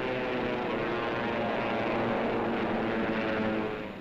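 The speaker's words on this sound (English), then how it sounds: "The Mustangs drop wing tanks and plunge into the fight." World War II P-51 Mustang fighter planes diving into a dogfight roar with a continuous, dense piston-engine drone that stays steady and loud throughout.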